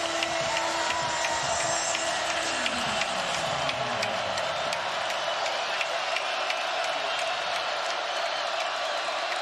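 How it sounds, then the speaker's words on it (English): A big stadium crowd roars at a college football game between West Virginia and TCU during a goal-line stand. The cheering is loud and sustained, with no break for the whole stretch. "this crowd is into it"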